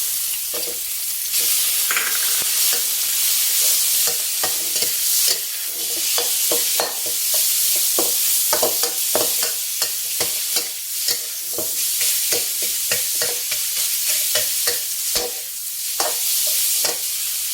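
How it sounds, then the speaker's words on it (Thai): Minced pork stir-fries with garlic in a pan over medium-low heat, giving a steady close sizzle with frequent spatula scrapes and clicks and no voices. "รวนหมูจนเริ่มสุกนะคะ"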